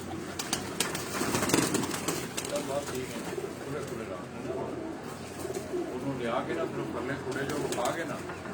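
Soft coos repeat among a busy flock of breeder pigeons on a rooftop, with people talking over the birds throughout.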